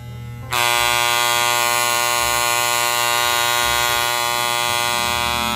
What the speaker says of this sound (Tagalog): kapag masyadong malakas is maingay yung clipper